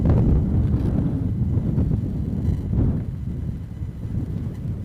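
Wind gusts steadily at an airport, buffeting the microphone with a loud, low rumble that swells and eases over several seconds.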